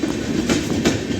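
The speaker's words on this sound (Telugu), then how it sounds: "ఇంకో ట్రైన్ అకోలా జంక్షన్ వైపు వెళ్తుంది చూడండి" A passing train heading toward Akola Junction makes a brief, steady rumble with a couple of rhythmic clickety-clack wheel beats, close and moderately loud, with no talking.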